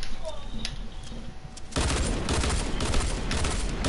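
Gunfire in a shooter video game, starting with sparse shots and then breaking into a dense, loud, sustained burst of rapid fire, with players talking over the action.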